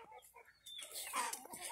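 Chickens on a farm cluck and squawk close by in short, uneven calls, faint at first and then louder and busier.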